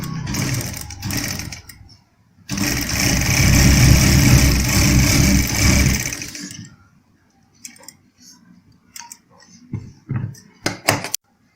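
Sewing machine stitching the edge of a gents kurta placket strip, a steady loud whirring run of about four seconds after a shorter burst, then scattered handling clicks and small knocks as the cloth is moved.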